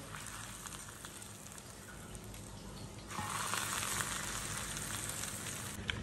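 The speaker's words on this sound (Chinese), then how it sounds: "最后淋上热油" Hot oil is poured over a sauce of coarse chili flakes, garlic, sesame seeds and cumin powder, setting off a soft crackle that jumps into a louder, steady sizzle partway through and keeps hissing to the end.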